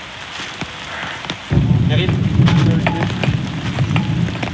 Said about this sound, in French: Il pleut trop les gars.